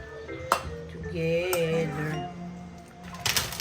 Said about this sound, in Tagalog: We mix everything together.